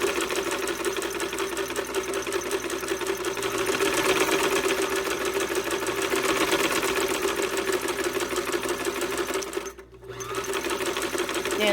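A Davis sewing machine runs and stitches with a fast, steady mechanical clatter and whir, close and loud, with one brief dip near the end before it picks up again.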